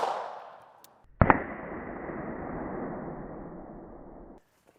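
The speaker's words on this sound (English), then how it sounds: "Starting with the 22 long rifle first, we're going to do a test shot" A single sharp .22 Long Rifle gunshot fired at the top left of a 15-year-old Level II body armor vest, one loud crack followed by a few seconds of steady broadband hiss before it cuts off.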